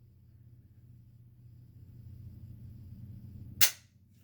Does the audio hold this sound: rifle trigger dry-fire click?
yes